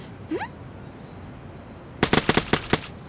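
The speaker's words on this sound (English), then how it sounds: "Someone's throwing paint bombs." Cartoon paint bombs being thrown: a brief rising whistle, then a quick cluster of sharp, loud popping bursts.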